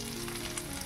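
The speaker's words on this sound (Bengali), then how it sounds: "লঙ্কাগুলো পেঁয়াজের সাথে আবারও ভালো করে একটু ভেজে নেব" Green chillies fry with browned onions in a pan, giving a steady, soft hiss of sizzling oil close by without pause.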